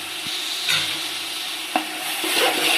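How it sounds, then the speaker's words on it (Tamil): Mint and coriander stirred into chicken biryani masala in a pan: a steady close sizzle with a few scraping stirs and light utensil knocks, no voices. "இது எல்லாம் சேர்த்து கலரி விட்டுக்கலாம்."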